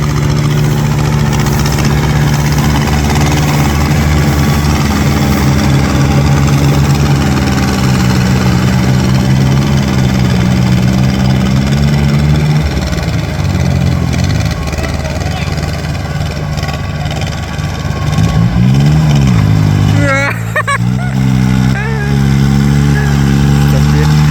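An old stock car with a turbo idles and revs in a rice paddy field, its engine a continuous low rumble that rises and falls in pitch as the throttle opens, with people talking over it.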